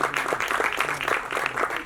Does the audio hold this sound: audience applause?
yes